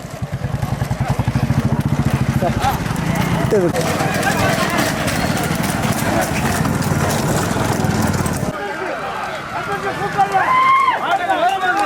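Racing bulls pull a cart in a rural bullock cart race near Thanjavur, with rapid pounding hooves and rattling wheels close by, and excited shouting from people over the clatter, a motor droning in places.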